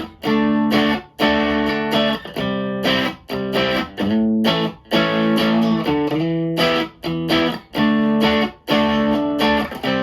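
An electric bass line runs through a distortion pedal set to a moderate, usable amount of grit, played as loud, close riffs in short repeated phrases separated by brief gaps.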